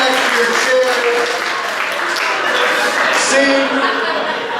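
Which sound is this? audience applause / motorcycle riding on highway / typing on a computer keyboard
audience applause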